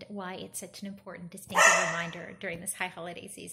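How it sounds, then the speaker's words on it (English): A pet dog barks and yips in the background, a burst of several sharp barks midway, under a person speaking steadily in the foreground. "You can hear my dog barking in the background."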